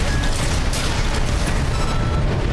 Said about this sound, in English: We're taking too much fire!